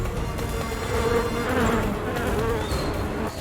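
Hornets attacking honeybees at a hive give off a dense, loud, continuous buzzing swarm drone close by, with wingbeat hum rising and falling throughout.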